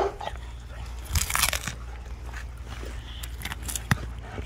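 Rottweiler puppies gnaw and crunch on rib bones up close, with irregular bursts of cracking and chewing over a low background hum, one sharp crunch near the end.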